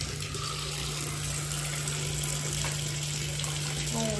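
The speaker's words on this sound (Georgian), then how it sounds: "აი დავუსხათ ახლა ბორანის წყალი" Water pours steadily from a tap, a continuous close splashing gush with a faint hum beneath it.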